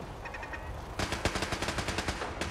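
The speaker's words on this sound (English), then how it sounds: "Oh, my turrets are going apeshit." Defensive settlement turrets in Fallout 4 open fire in rapid automatic bursts, loud and close, with sharp repeated gunshot cracks after a quieter first second.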